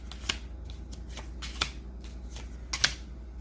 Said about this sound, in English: The next 4 cards are dealt.